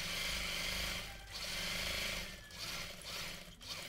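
A sewing machine stitches the folded hem of a men's suit close to the edge, a steady mechanical whir with rapid needle clatter that runs continuously, dipping briefly in pace a few times, with no voices.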